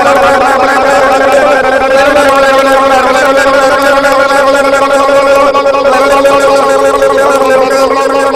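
A voice imitates an old-timey fire engine bell the way a little kid would, producing a loud, continuous, buzzing vocal drone that holds steady and close for about eight seconds without a pause.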